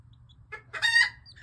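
Backyard chickens outdoors in fall in northern Wisconsin, giving a short burst of clucking and squawking calls that rise to a louder peak near the end over a steady low background hum, with no talk.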